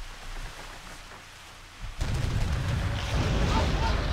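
A heavy cannon blast from the pirate game Sid Meier's Pirates! hits about halfway through, a sudden deep boom that rolls into a sustained rumbling roar after a quieter stretch of ambient noise.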